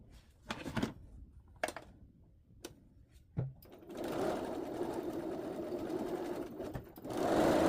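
A sewing machine stitches flying-geese quilt pieces together, with a few sharp clicks and short starts at first, then a steady close whirring run, a brief pause, and a final burst of stitching.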